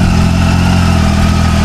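A 2020 orange Triumph Tiger 800 XCA motorcycle engine idles steadily and loud up close, a low even throb with a rich harmonic hum that holds without a break.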